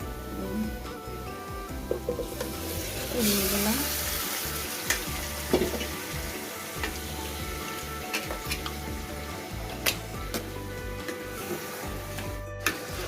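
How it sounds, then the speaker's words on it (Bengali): Beef hits a pan of lightly fried onions and sizzles steadily, with scraping and clinking as it is stirred, close up and without any talk. "এখন আমি মাংসটা দিয়ে দেবো পেঁয়াজটা হালকা ভাজা হয়ে গিয়েছে"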